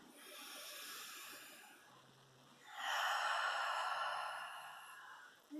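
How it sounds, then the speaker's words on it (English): A long breathy exhale out the mouth during a Hatha yoga stretch session, soft and near, following a quieter breath in. "we'll take a big exhale out the mouth"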